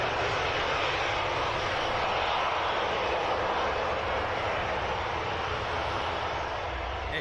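The engines of an ITA Airways Airbus A320neo at Birmingham Airport give a loud, steady broadband roar that holds at constant strength across the whole stretch, with no voices over it.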